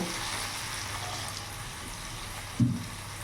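Water poured into a pan of frying rohu fish curry masala, a steady sizzle with a brief louder splash and hiss near the end.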